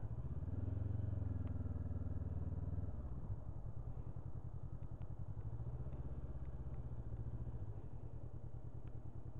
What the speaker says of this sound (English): Very nice bike to ride.